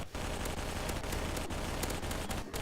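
Sustained automatic machine gun fire from an unmodified weapon in Garry's Mod, a dense continuous burst of rapid shots lasting over two seconds with only brief breaks near the start and end, loud and close.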